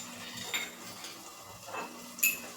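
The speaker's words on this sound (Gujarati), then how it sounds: "એડ કરી તેને દસ્તાથી આ રીતે બરાબર ખાંડી લેશું" Garlic and Kashmiri red chili pounded in a mortar with a pestle: a few soft, widely spaced knocks and clinks over a quiet background, the last one the sharpest.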